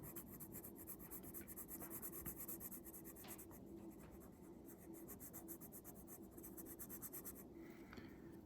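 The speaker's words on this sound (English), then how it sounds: "I'll go and switch over to the colored pencil" Colored pencil scratching and rubbing across paper while drawing, a faint, steady, close-up scraping texture with short strokes and brief pauses, no talking.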